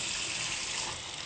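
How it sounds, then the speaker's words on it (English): Hot water runs from a kitchen tap in a steady, soft splashing stream, fairly quiet and alone for about a second. "Turn on the water hot,"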